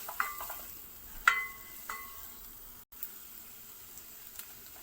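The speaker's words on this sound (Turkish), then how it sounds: "Bunları birazcık karıştırıyorum." Small garlic clove and small potatoes being stirred in a pot for lentil soup, giving a few soft scrapes and clinks of a spoon against metal, quiet and close, with faint sizzling in between.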